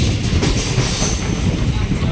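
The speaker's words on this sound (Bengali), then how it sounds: "মায়াপুর স্টেশন থেকে ট্রেন ছাড়লো।" A train pulls out of Mayapur station with a close, steady rumble and faint wheel clatter that stays even and fairly loud for the whole moment.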